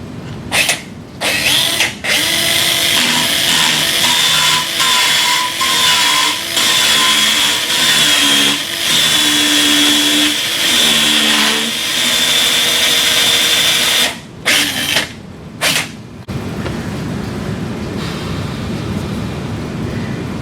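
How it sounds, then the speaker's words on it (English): A powered radial surface reamer drills over a guide pin into a Sawbones model wrist, running as a loud, close, sustained whir with brief stops and restarts near the end. "Take the appropriately sized radial surface reamer and drive it over the guide pin"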